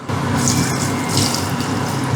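Water splashes steadily into a cooking pot for Kottayam-style beef bones and tapioca, a loud, continuous gushing pour with no voices.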